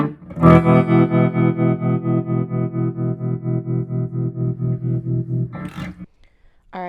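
Electric guitar played through a Premier 71 tube amp with its tremolo engaged, a sustained distorted chord pulsing in steady, even throbs for several seconds, loud and close, then cutting off before a brief noise at the end.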